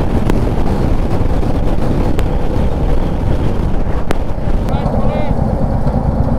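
Steady roar of wind buffeting the microphone while riding a motorcycle along the NH19 highway toward Durgapur in India, loud and continuous throughout with a low rumble underneath.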